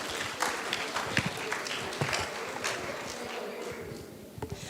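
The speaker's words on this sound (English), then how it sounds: "Give yourselves a round of applause." Youth symposium audience clapping for themselves, a faint scattered round of applause with uneven individual claps that thins toward the end, heard at a distance.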